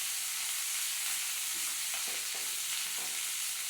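Vegetables with turmeric and green chilli fry in a pan, a faint steady sizzle with a few soft stirring scrapes in the middle.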